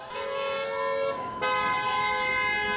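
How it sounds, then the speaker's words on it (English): Car horns blare at a street rally for Yoon Suk Yeol in Buena Park, loud sustained honks from nearby vehicles overlapping, one horn cutting off and another starting in its place. "They're honking."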